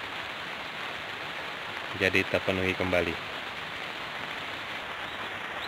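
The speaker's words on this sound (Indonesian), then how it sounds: "saat ini cuaca sedang turun hujan" Steady rain hisses over a hydroponic vegetable farm, a dense unbroken wash of drops, while someone speaks briefly in the middle.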